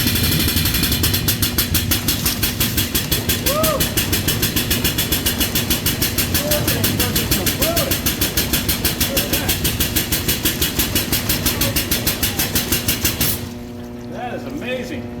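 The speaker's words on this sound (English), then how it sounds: "that's one heck of a pump" A VEVOR 44 GPM air-operated double diaphragm pump, rated to 115 PSI, pumps fluid into a tank with a loud, fast, regular pneumatic chugging and gurgling flow, then drops to a quieter hiss near the end.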